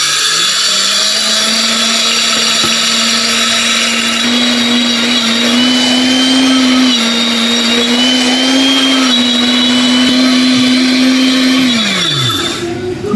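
An electric spice grinder whirs loudly and continuously while grinding a mix of spices, a steady high motor hum that holds for most of the run and then winds down as it is switched off.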